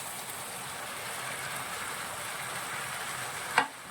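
Chopped mushrooms go into a pan of frying potato masala curry, a soft, even sizzle hissing close by with one brief clatter near the end, no voices.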